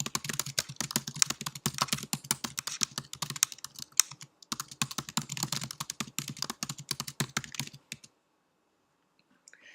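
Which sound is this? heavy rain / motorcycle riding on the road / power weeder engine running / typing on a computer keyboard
typing on a computer keyboard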